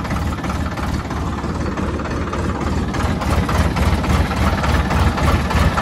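A tractor engine idles close by, a loud, dense low rumble with faint knocking that holds steady and swells slightly toward the end.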